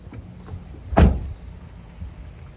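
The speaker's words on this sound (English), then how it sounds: "And don't forget to shut the door." An RV door is shut once with a single solid thud in the middle of the clip, set against low outdoor background noise.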